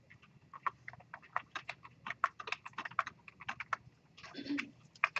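Close, quiet keystrokes on a computer keyboard tap out in an irregular stream, a run of individual clicks with a slightly heavier thud near the end, with no talking.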